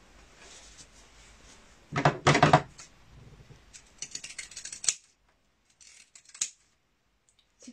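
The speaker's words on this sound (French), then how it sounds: "vous venez faire des petits crans à intervalles réguliers, vous voyez, pour aider ensuite le tissu à bien se positionner" Scissors snip a series of small notches into fabric, several crisp close cuts in quick bursts separated by brief pauses.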